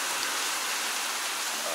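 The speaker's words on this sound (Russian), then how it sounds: "сейчас идет сильный дождь и небольшой такой ветер идет" Heavy typhoon rain in Japan pours down steadily, a dense even hiss with no pauses, with light gusting wind.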